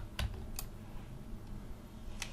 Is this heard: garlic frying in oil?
no